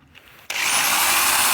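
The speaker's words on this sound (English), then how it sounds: "Man, this thing is blunting all of my drill bits." A power drill bores out a stuck bolt on a VW Touran: after a quiet start, one loud, close, continuous high-pitched grinding whine runs for about a second, then cuts off abruptly.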